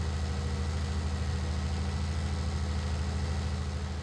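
Tractor engine in Farming Simulator 19 idling steadily with a low, rumbling throb, close and continuous throughout with no talk.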